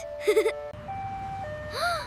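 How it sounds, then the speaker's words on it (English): A cheerful ice cream truck jingle chimes briefly in a children's song, with a short melodic phrase followed by a rising tonal sweep, fairly quiet and with no talking. "The ice cream truck is coming!"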